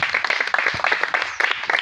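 Secondary school students clap for guests at an excellence day ceremony, a short burst of dense, fairly close applause from a group, steady throughout.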